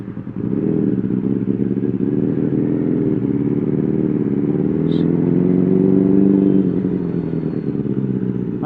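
A Benelli 600i motorcycle fitted with an Ixil exhaust runs close by in a residential area, its loud, steady engine note holding throughout with a slight swell in the middle.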